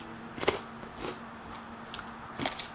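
Crisp bites into warm, crusty, open-crumbed sourdough bread, a few sharp crunches close to the microphone spaced about a second apart over a low background hum, with no talking.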